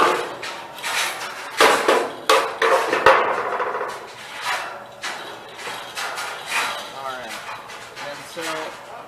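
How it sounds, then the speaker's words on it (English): Metal clamps and a jig clank and knock as they are removed from a welded aluminum column, giving a run of sharp, irregular metallic hits and rattles at close range, with faint voices in the background. "Go ahead and take the clamps and the jig off."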